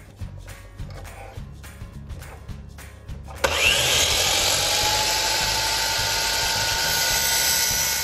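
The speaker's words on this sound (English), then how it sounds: "I have my miter saw all set up, so just to bring the blade down now" Miter saw cutting plexiglass: a short spell of quiet handling knocks, then the motor kicks in loudly and runs as a steady high-pitched whine with the blade biting through the sheet.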